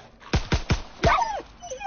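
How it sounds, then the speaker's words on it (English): A dog in Call of Duty WWII gives a short run of sharp yips followed by a drawn-out whimpering whine, close and fairly loud, all in under two seconds. "Damn dog."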